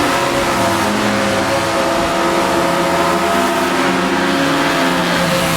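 A 1960s Honda S800 sports car races at Suzuka in Assetto Corsa, its small engine revving loud and continuous at high pitch with steady buzzing harmonics, close and alone without talk.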